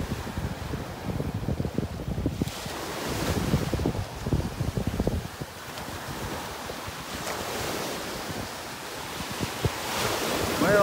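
Surf rolling onto a beach in North Naples, Florida during a red tide, steady washes of waves mixed with gusting wind buffeting the microphone, no voices.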